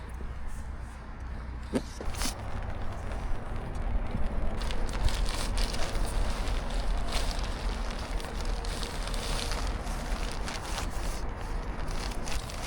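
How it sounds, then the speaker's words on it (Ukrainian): Rain patters steadily onto the water around a boat during a spinning-rod fishing trip for predatory fish, a soft, continuous crackling hiss with no talking over it. "почався дощ"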